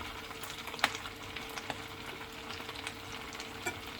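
Vegetable patties frying in a little oil in a pan give a steady soft sizzle and crackle, with occasional sharper pops, close up and without speech.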